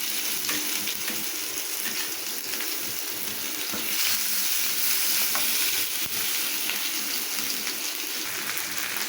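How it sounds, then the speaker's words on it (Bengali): Dried red chilies and crushed garlic frying in hot oil give a dense, continuous close sizzle and crackle that holds steady throughout, with no voices. "এগুলো তেলে একটু ভেজে নিচ্ছি"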